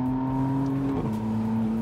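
McLaren Artura Spider with 700 PS under full throttle, its engine a loud, close, sustained harmonic roar with a brief pitch wobble midway, with no talking.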